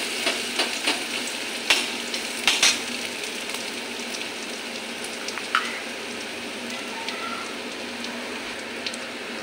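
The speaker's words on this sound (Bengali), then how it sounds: "দেখো পেঁয়াজ আর রসুনটা আমার ভাজা ভাজা হয়ে গেছে।" Chopped onion and garlic fry in hot oil with a steady, even sizzle, broken by a few sharp taps and scrapes of a spoon being stirred through the pan.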